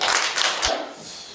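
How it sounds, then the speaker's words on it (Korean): Guests at a Korean book launch gathering clap to welcome a speaker, a short burst of applause with a few sharp distinct claps that quickly fades toward quiet. "박수로 맞으십니다"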